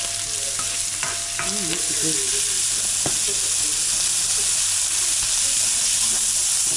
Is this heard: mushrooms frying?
yes